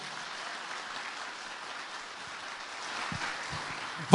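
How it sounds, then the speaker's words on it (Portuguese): A church congregation applauds the word of the Lord during a sermon, a soft, distant, even patter of many hands that swells slightly near the end, with a few low thumps. "vamos aplaudir a palavra do Senhor"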